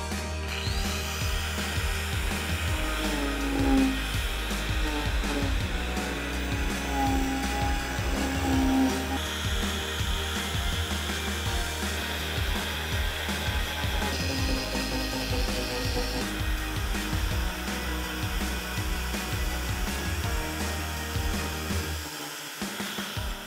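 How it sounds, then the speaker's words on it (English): Continuous high whine and grinding of a power carving tool with a coarse-grit carving wheel cutting into wood, loud and close, steady for over twenty seconds before stopping abruptly at the end. "So I've been using this coarse grit carving wheel and it's given me a pretty rough surface."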